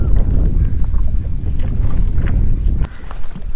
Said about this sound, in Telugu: ఆ బోట్లకి అలలు తాకుతుంటే భలే వస్తుంది ఆ సౌండ్